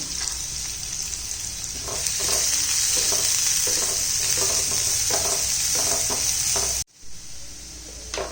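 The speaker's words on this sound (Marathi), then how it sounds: "त्यानंतर कांदा घालायचा आहे कांदा चांगला परतून घ्यायचा आहे" Chopped onion sizzles steadily in hot oil in a pan for a potato rasa bhaji, with repeated scraping stirs over a loud, constant fry that cuts off abruptly near the end.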